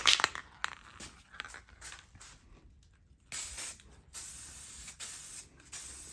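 SEM Color Coat plastic paint hisses from an aerosol can in short bursts onto Datsun 280Z interior trim, with quiet pauses between sprays.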